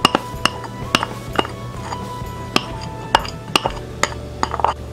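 Carrots are stirred into squid ball ingredients in a bowl, with a utensil clinking sharply against the bowl in irregular taps over soft scraping, close and fairly quiet.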